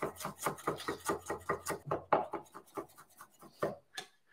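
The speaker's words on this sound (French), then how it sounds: "on peut même les hacher finement" A knife finely chops ginger on a cutting board in rapid, steady, close-up chops, about six per second, that trail off at the end.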